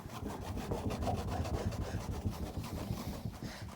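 Steady back-and-forth scrubbing rasps against an old Dodge door panel as moss and paint are rubbed off, a dense rhythmic grind, close and continuous with no talking.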